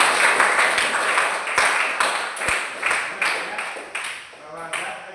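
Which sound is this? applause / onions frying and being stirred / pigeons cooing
applause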